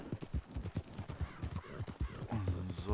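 Rhythmic horse hoofbeats in Red Dead Redemption 2 clip-clop steadily at a trot, close and clear, with a brief horse snort or whinny near the end.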